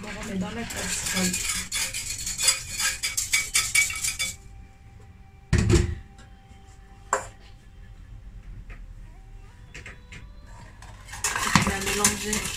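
A spoon or whisk stirring milk and eggs in a saucepan: close clinks and scrapes in uneven bursts, with quieter pauses between strokes.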